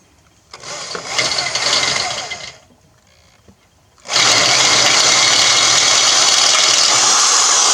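Poulan engine fitted with a homemade gas pedal: a short rising run, a quiet pause, then a sudden loud sustained rev held at high throttle.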